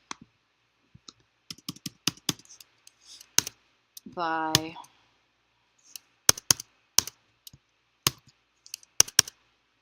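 Sparse, sharp clicks from a computer keyboard as the control key is pressed repeatedly, irregular taps close up with silence between, interrupted briefly by a short spoken word.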